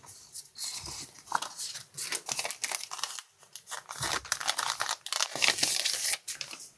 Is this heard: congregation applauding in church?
no